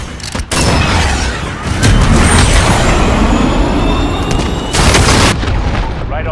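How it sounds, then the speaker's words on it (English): A missile launched in Call of Duty: Modern Warfare, a loud rushing roar that swells into a heavy explosive boom, with radio-style voices calling out alongside. "Missile away"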